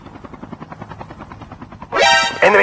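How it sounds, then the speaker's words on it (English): An enemy helicopter in the Call of Duty Mobile video game flies in with steady rotor chop, building to a loud, close roar near the end. "Enemy helicopter."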